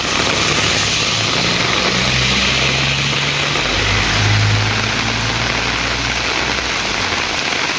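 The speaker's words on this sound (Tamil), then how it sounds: "மாவட்டத்தில் ஒரு மணி நேரம் கனமழை கொட்டியது" Heavy rain pours down in a steady dense roar, with a low rumble like a passing vehicle underneath, loud and continuous.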